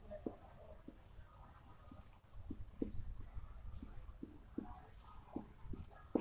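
A pen writing on paper while a math proof is being worked out, making soft scratchy strokes in short irregular bursts, close and quiet, with a low voice faintly in the background.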